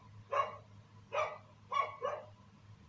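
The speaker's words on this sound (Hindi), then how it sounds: "देखिए कुत्ता बहुत भोगता है" A dog barks four times in a steady sequence, sharp and moderately loud, in a catering kitchen's vegetable preparation area, with low background noise between barks.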